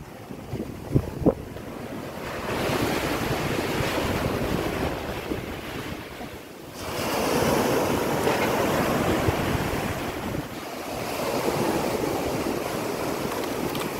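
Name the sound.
sea waves surging into a creek during typhoon Dante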